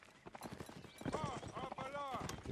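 Horse hooves clip-clop close by in a Mount & Blade line-battle game, in a rapid uneven run of hoofbeats that swells louder as the horse nearly runs past, while a voice talks over it.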